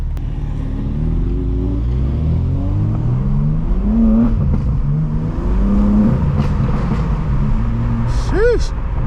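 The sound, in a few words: BMW 430i B48 engine revving, stock exhaust with downpipes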